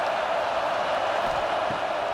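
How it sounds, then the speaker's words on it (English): A football stadium crowd roars steadily behind the defense on a big third down, a dense, sustained wash of cheering with no breaks. "Big third down as the crowd gets behind this defense."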